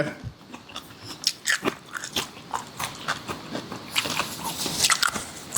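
Crisp biting and crunching of large pickled seafood, several sharp bites followed by wet chewing up close, with no talking.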